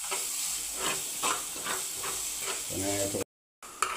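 Curry leaves dropped into sizzling dried prawn curry, a steady hiss and crackle of frying with stirring, a brief spoken word near the end and a sudden cut to silence.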